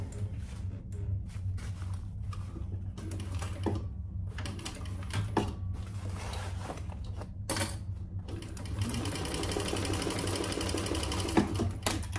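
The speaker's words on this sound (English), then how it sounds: "We'll see how Thor reacts to just 2 layers of waterproof canvas" A sewing machine stitches through two layers of waterproof canvas, a rapid mechanical needle clatter running steadily with short pauses between bursts, close and fairly loud, with no talking.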